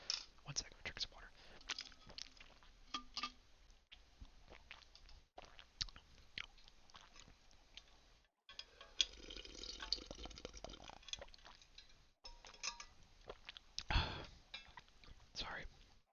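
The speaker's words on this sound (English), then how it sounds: "I'm drink some water." Someone drinks water close to the microphone in quiet, soft gulps and sips with small wet mouth sounds, broken by brief pauses and faint whispered talk.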